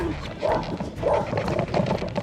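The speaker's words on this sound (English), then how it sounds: "Except for one small dog attack." A small dog barks in short repeated bursts during a sunny autumn bike ride along the Danube on the EuroVelo 6 route in Serbia or Bulgaria, set against steady road and wind noise.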